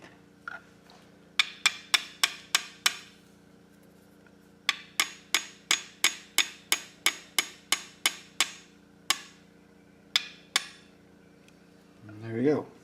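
A hammer taps metal during a knife build in a workshop, about twenty crisp, ringing strikes in two evenly paced runs separated by a short pause, over a faint hum, with a brief voice at the end.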